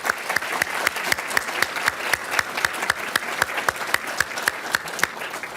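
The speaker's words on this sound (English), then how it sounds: "Could you please join me in giving them a round of applause?" Graduation ceremony audience applauding steadily, a dense stream of claps filling the hall at moderate distance without a break.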